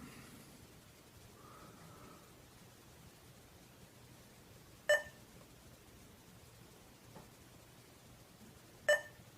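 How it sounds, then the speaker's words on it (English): A 90s Mac triggered by a Cron Manager utility gives two short electronic beeps about four seconds apart, each made of quick repeated blips, over a faint quiet hiss in a still room. "now it's beeping multiple times a second"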